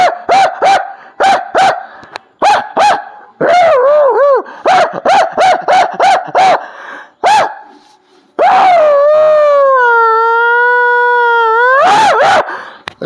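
A man imitates village dogs at night with his voice, giving loud, close bursts of barks and yips in irregular rhythm, then long, wavering howls.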